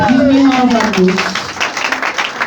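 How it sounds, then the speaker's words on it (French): A church congregation at a French-language Sunday service applauds and cheers, clapping and raised voices under a loud speaking voice that trails into the crowd noise. "Donne-moi une acclamation"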